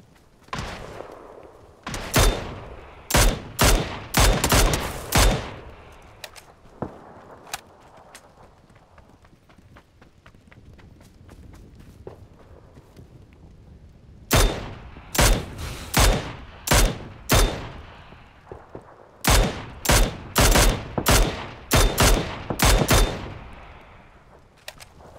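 Gunfire in the video game PUBG, with bursts of loud, sharp rifle shots in rapid clusters separated by a quieter stretch of faint distant pops, no speech over it.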